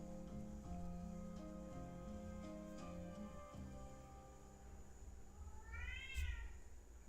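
A cat meows near the end as a rising and falling call, faint beneath steady background music in a room where art supplies are being used.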